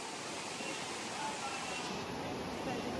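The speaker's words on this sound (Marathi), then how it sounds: "त्या हा ओढा आहे, त्याच ओढ्याचं पाणी आहे." Rushing water of a forest stream, a steady broadband flow close by, continuous across the clip with faint voices in the background.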